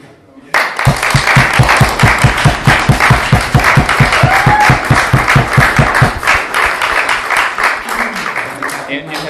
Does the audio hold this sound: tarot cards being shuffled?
no